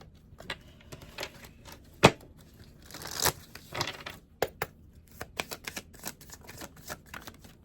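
A deck of crystal oracle cards gets shuffled by hand, with quiet irregular riffling, flicking and tapping of card edges close by, one sharper slap among the soft patter and no talking.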